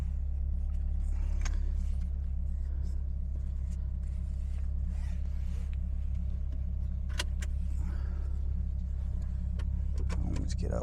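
A Subaru WRX is driven out of a driveway, its engine a steady low rumble heard from inside the cabin, with faint clicks and rattles over it and no talk.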